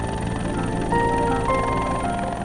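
A military helicopter used for army and humanitarian missions flies nearby, giving a loud continuous engine and rotor drone with a steady whine and rumble and no voices.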